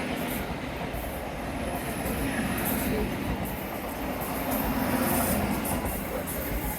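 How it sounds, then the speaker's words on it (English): A train rolls past at a distance along Brunel's seawall, a steady rumbling wash with faint wheel squeals; some quiet talking may sit beneath it. "I think I can hear a train behind me."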